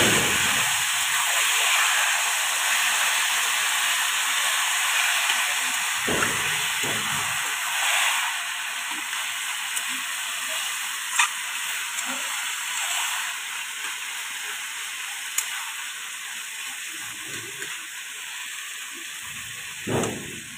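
Taro leaves (kochu shak) hit a hot pan already holding turmeric and green chillies, and a steady loud sizzle with hissing steam follows. It carries on without a break, with a few faint clinks and knocks underneath.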